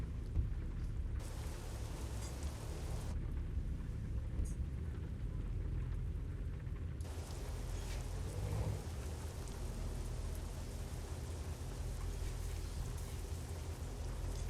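Modded rain in American Truck Simulator pours in a dense, constant hiss while a truck drives with its wipers on, filling the whole stretch evenly with a low rumble underneath and no speech.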